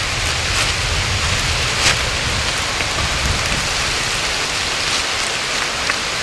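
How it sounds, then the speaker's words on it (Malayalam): Heavy rain pours down steadily, a dense, loud, unbroken hiss of drops striking surfaces close by. "നല്ല കിടില മഴ പെയ്തുകൊണ്ടിരിക്കുന്ന"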